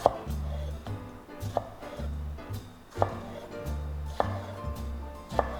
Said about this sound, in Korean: 토마토를 이렇게 반달로 썰어서